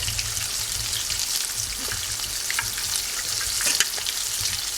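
Meat for a red peas cook up bubbles in its own broth in a pot, a steady close sizzle and hiss with soft crackles and occasional pops throughout.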